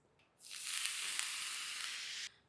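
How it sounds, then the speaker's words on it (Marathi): A sudden loud hiss of water sprinkled on a hot dosa griddle, sizzling steadily for about two seconds before cutting off abruptly. "तव्यावर पाणी मारायचं"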